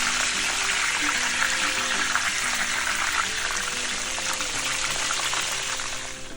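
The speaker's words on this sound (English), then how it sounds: "Fry each side for about 2 minutes." Chicken pieces frying in oil, a steady dense sizzle and crackle running continuously and loudly, with faint tonal hum underneath and no talking.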